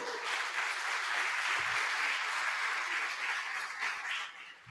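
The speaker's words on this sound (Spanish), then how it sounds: "Demos un aplauso a nuestro Señor" A church congregation applauding their Lord, dense continuous clapping from many hands filling the room, steady and fairly loud before tapering slightly at the end, with no talk over it.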